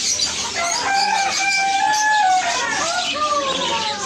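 Bisaya native chickens cluck and call close by in a busy outdoor market setting, bright drawn-out squawks and clucks rising over background chatter and voices.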